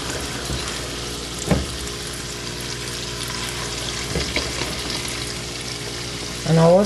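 Cameroon-style puff-puff dough deep frying in hot oil, a steady close sizzle running throughout, with a couple of soft clunks of a utensil and a brief louder burst near the end.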